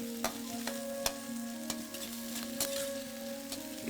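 Onions frying in a pan until golden, a steady sizzle broken by sharp regular clacks of a spatula stirring, no talking.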